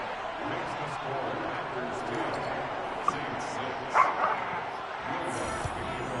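Small dogs bark and yip excitedly indoors in a few short bursts over a televised NFL playoff football broadcast with ongoing crowd noise and commentary.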